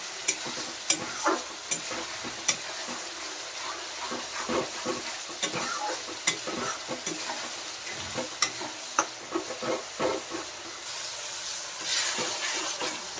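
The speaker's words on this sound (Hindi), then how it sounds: "एबे मसला को पूरा भल से कसिबा" Masala spices stir-fried in a pan for a goat head curry, with steady sizzling and frying hiss broken by repeated scraping stirs of the spatula, close and fairly loud throughout.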